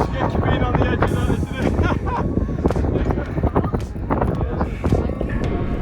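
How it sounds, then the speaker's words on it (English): Gusting wind buffets the microphone along a steep mountain bike trail at World's End in the UK, a loud continuous rumble with choppy bursts of rustle. "It's a bit windy."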